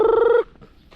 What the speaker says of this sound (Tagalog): Yan ay aking mga manok.